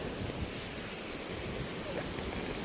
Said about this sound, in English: And it's a lot more windier today. I don't know how if the waves are going to be just huge.